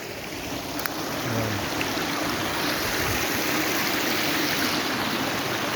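Water flows steadily in a stream at a park, a broad continuous rushing wash that stays even throughout with no talking.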